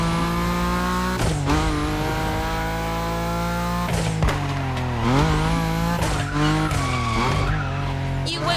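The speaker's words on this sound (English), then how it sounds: "Earn maximum points by drifting as long as possible." A car drifting in The Crew Motorfest, its tires squealing in long sustained screeches over a steady revving engine, loud and continuous, with shifting pitch as the slide changes.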